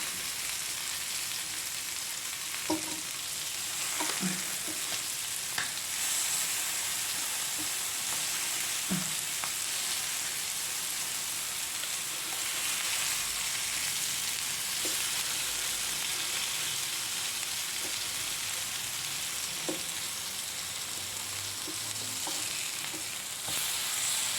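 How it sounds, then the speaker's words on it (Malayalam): Sardines frying in hot oil in a pan for a Kasaragod-style Kerala fish fry, a steady loud sizzle throughout with occasional soft clicks and pops from turning the fish. "ഇതെല്ലാം ഒരു ഭാഗം നല്ലോണം പൊരിഞ്ഞു"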